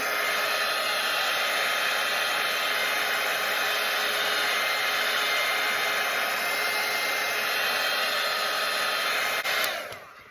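A hair dryer blows steadily and loudly on a freshly painted watercolour portrait, a constant broadband whoosh that runs for about nine seconds before cutting off abruptly near the end.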